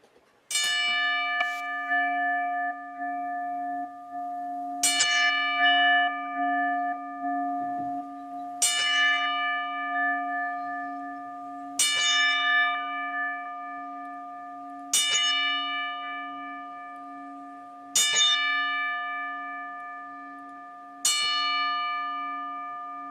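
A single bell tolls slowly and alone as a memorial salute for Bill Mercer, each clear ringing strike spaced about three seconds apart and left to decay into a long sustained hum before the next.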